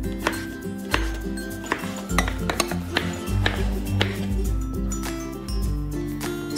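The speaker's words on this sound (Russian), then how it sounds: "Баклажаны нарезаем соломкой." A knife slicing eggplant into strips on a cutting board in repeated close taps, with music playing underneath.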